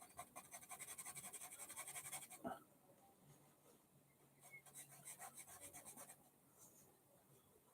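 A dog scratching at a wooden door, scraping and rubbing in a steady series of quick strokes, pausing briefly, then resuming, fairly faint throughout.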